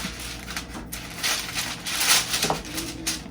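Parchment paper is folded to fit a baking tray, giving close, soft crinkling and crackling bursts in irregular rustles, fairly quiet.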